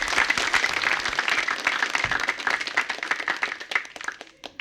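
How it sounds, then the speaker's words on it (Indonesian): An audience applauds at a televised Indonesian show, dense clapping close and sustained for several seconds before thinning out. "Hadirin mohon tepuk tangan untuk Mbak Ayu."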